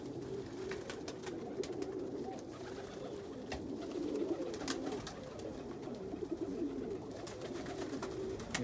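Homing pigeons, including a black homer cockbird and a red frill stencil, coo steadily inside a loft after a snow day, a low continuous murmur of several birds at close range with scattered clicks and rustles and no talking.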